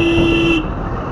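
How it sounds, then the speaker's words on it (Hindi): A car horn sounds in a single loud, sustained honk amid road traffic in Haridwar, India. It cuts off abruptly, leaving a steady rumble of vehicles. "थोड़ा सा ट्रैफिक"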